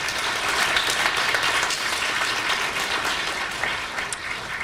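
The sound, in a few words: applause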